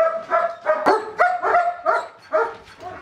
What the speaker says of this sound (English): the sound of barking dogs welcome all visitors